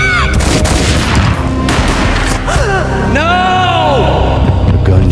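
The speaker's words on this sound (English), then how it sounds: "A gunshot boomed and she fell down in slow motion." A gunshot booms in the video game Max Payne amid a busy game soundtrack, with a short burst of blasts and rumbling effects while a voice speaks over the scene.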